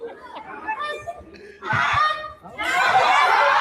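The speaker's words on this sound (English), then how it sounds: "And then the Canada goose." Canada goose honking calls, several loud harsh bursts that grow denser toward the end, mixed with snickering laughter and other voices nearby.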